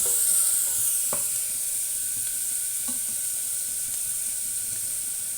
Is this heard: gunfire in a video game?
no